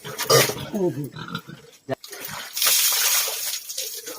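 Pig being washed with water: close grunting and oinking alongside splashing and sloshing, with people talking nearby throughout.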